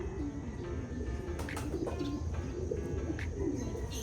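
Racing pigeons arrive at a loft, with soft cooing and chirps and brief wing flaps over a busy outdoor background, heard from close to moderate distance.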